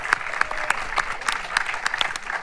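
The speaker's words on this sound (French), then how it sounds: "Des applaudissements, s'il vous plaît." A small audience claps for a singer about to perform, a short burst of lively, irregular hand claps heard fairly close and moderately loud.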